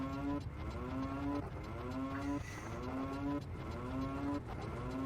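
A cow in the video game Ocarina of Time Randomizer moos in a repeating looped pattern, five drawn-out, wavering bellows about a second apart, steady and loud with no talk over them.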